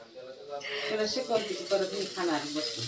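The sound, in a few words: dosa cooking hot on the pan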